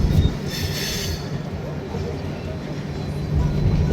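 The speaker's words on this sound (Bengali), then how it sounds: "আমাদের গুয়াহাটিতে ট্রেন ঢুকে গেল" A passenger train pulls into Guwahati station, its wheels rumbling loud and steady, with a brief squeal of wheels at the start and a rise in noise near the end.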